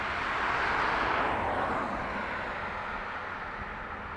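A Boeing 757 airliner at Dublin Airport gives off a loud, steady broadband roar of jet engines. The sound peaks early, then eases slightly and holds without a break, and no voices are heard.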